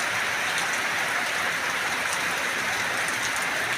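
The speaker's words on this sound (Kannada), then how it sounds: "ಮಳೆ ಬರ್ತಾ ಇದೆ." Steady rain pours down on the village of Gadilingadalli in Chincholi taluk, Kalaburagi district, North Karnataka, as a dense, even hiss that holds at the same level throughout, with no voices.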